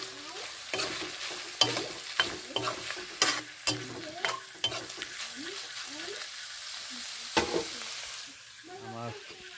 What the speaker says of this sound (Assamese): আমাৰ বৰ্তমান মাংসটো ভাজি এনেকৈ হ'ল